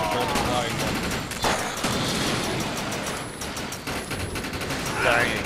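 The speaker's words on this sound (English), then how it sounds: "I just unloaded an entire clip on this guy." Rapid continuous gunfire rattles through a firefight in the video game Defiance, dense and loud throughout, with voices talking over it.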